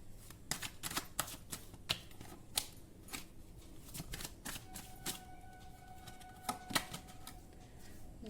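A tarot card is drawn from the deck and set down on a table, heard as a quiet series of crisp flicks and taps with faint shuffling between them.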